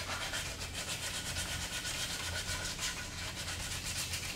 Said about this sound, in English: I'm going to sand that edge.